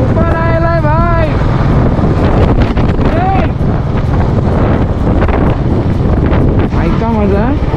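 Wind drives rain across the scene in a storm, a constant loud roar of gusts hammering the microphone, while someone speaks in short bursts over it.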